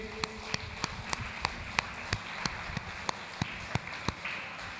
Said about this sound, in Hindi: सब लोग ऊपर हाथ उठाते हुए तालियां बजाते हुए